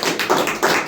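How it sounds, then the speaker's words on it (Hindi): A church congregation clapping in praise, a dense burst of hand claps in quick rhythmic waves, loud and close. "अच्छा ताली बजाएं प्रभु के लिए।"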